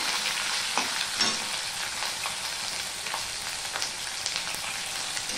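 Green chillies and ginger tempering in hot oil for a vegetarian Bengali spinach dish, giving a steady, even sizzle with faint crackles and small pops throughout, close by and with no talking.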